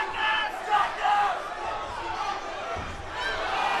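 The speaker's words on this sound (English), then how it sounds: "the crowd is going to root for the guy that's on the bottom and hope that he gets a chance." A live crowd roars steadily at an MMA fight, with loud sustained shouting and yelling that swells and dips over the few seconds, and voices mixed into the din.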